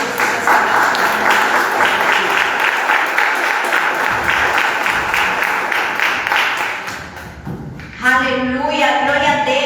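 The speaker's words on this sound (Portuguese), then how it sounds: "E as palmas são para o Senhor Jesus." A church congregation claps together in a sustained, dense burst of applause, with a voice briefly heard near the end as the clapping fades out.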